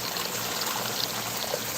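Water pouring steadily over a bag of smashed biochar at a pond garden, a continuous broadband splashing stream that stays even and fairly close throughout, with no talk over it.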